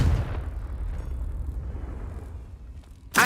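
Confringo spell blast in Hogwarts Legacy, a deep rumbling boom that rolls and slowly fades, ending in a sharp crackling burst.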